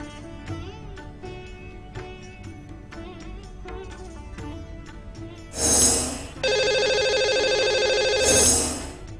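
A telephone rings as a call goes out to a caller on a live phone-in show: soft electronic tones first, then louder, sustained ringing bursts toward the end, with no talking over it.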